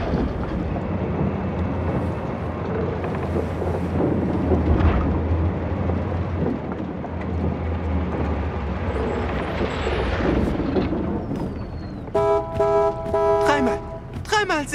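A car horn honks in the video game Dying Light 2, clear tonal blasts standing out near the end after a long stretch of loud, rumbling game noise.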